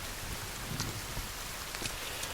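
Steady rain falls in The Forest survival game, a soft continuous hiss of drops with scattered louder patters and faint rumbling, heard alone at low level.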